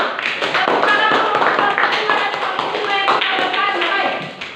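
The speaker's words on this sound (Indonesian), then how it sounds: "Tepuk tangan dulu." Students in a classroom clap together, a dense, close burst of quick hand claps that holds for several seconds and then tapers.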